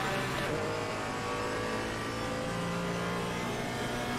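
A straight-six race car engine in Assetto Corsa Competizione drones steadily and loud throughout, a buzzy mid-pitched note that holds near-constant with slight revving shifts.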